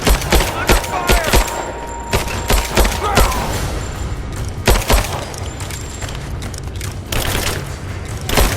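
Rapid gunfire in the Rise of the Tomb Raider video game, sharp close bursts and single shots cracking repeatedly across the scene with loud booms mixed in, under bits of game voice callouts.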